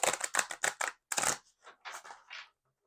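A deck of tarot cards is shuffled by hand, giving a quick series of sharp riffling bursts followed by softer, scattered card flicks, close and otherwise quiet.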